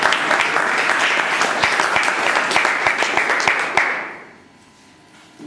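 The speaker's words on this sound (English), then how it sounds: "I think we should give a good big round of applause to Mahavir." Brisk audience applause at a club meeting for a newly elected Sergeant at Arms, close and lively with distinct individual claps, then cutting off abruptly into near silence.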